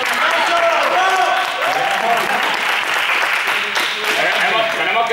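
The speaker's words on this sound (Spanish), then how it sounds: "Un aplauso para los profes." Applause for the teachers after a game, steady dense clapping from a group that fills the whole stretch, with voices mixed in underneath.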